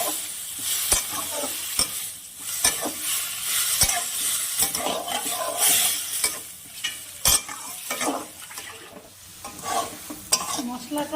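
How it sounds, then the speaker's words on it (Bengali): Spice paste with a splash of water is stir-fried in a pan, a continuous spitting sizzle broken by frequent sharp scrapes and knocks of a spatula against the metal. "আমি মশলাটার মধ্যে সামান্য জল দিয়ে মশলাটাকে ভালো করে কষিয়ে নেব।"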